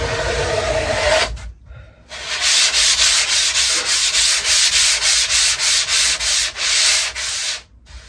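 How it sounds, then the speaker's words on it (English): Sanding on a glassed surfboard near the stringer: a loud, steady rasping scrape in long repeated strokes, broken by a couple of brief pauses, with no talking. "after you glass it and you've got to sand it, you've got to be really careful around the stringer"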